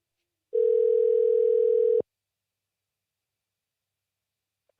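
A single steady telephone tone on a call-in show's phone line sounds clearly for about a second and a half, then cuts off abruptly into silence.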